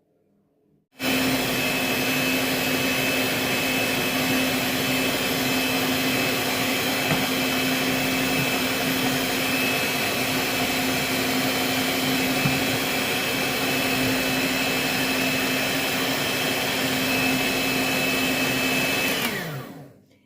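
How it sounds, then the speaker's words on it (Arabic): An electric mixer beats sponge cake batter in one continuous, loud, steady whine that starts abruptly and cuts off near the end, with no talking. "نبدأ بقى نحط العجان ونضربها"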